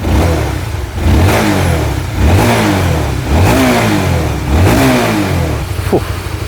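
Up close, an RS150 motorcycle engine with a broken piston is revved repeatedly, rising and falling in four or five strong throttle bursts over a running idle.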